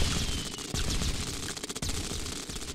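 Tank cannons firing in the Roblox game Tiny Tanks, a dense stream of rapid sharp shots and crackling bursts under steady game noise, with no talking.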